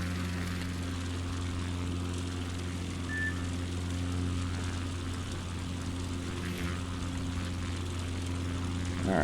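A propeller plane's engine drones steadily in Microsoft Flight Simulator 2020 during a low approach over trees toward a sandbar, a constant harmonic hum that holds loud and even throughout with no voices over it.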